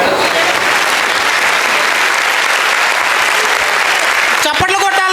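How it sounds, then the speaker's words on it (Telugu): Loud, steady applause from a school reunion audience fills the hall as someone steps onto the stage, a dense wash of clapping that runs continuously, with a voice talking over it near the end. "చప్పట్లు కొట్టాలి మీరు."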